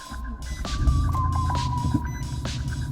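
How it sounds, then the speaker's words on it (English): An engine starts and idles during a cranking test with all accessories switched off, a steady low throbbing hum with a faint whine running through the whole stretch at close range. "Okay, so we started the vehicle"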